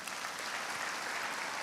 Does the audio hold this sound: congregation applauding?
yes